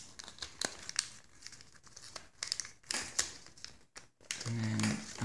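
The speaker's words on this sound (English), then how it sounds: "fold the top triangle bit over." Crisp crinkles and creases of paper folded by hand for an origami crane, close and intermittent, with short pauses between folds and a soft rustle near the end.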